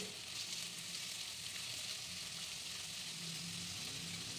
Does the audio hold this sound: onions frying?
yes